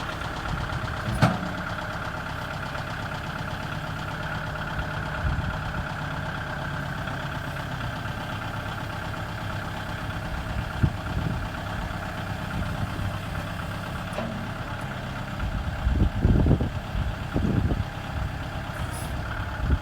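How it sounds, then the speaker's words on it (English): A Kubota L4060 tractor engine idles steadily and close by with a low, even rumble throughout, broken by a few brief knocks and thumps near the end. "Our Kubota L4060. We're gonna put it in the barn."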